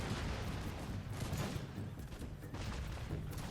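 Dense gunfire rolls on in an American Revolution video game battle, a continuous rattle of overlapping shots with no clear gaps, moderately loud.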